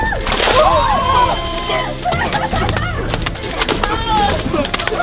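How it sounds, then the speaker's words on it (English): Water splashing and sloshing as it is dumped over a person as a game punishment in a Squid Game style challenge, with loud excited voices throughout. "Your punishment is water torture."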